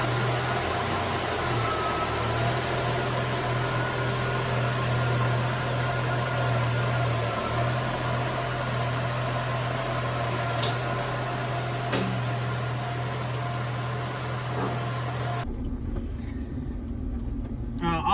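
A Jeep on the move after repairs for a rattle and belt tension gives a steady, low cabin drone with road rumble throughout, a couple of faint ticks near the end, then it drops abruptly to a quieter hum.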